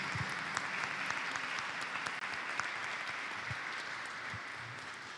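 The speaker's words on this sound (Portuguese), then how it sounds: "Uma salva de palmas para eles" Congregation applauding the singers at an ecumenical church service, a steady, fairly distant patter of many hands clapping evenly throughout, with a few louder individual claps standing out.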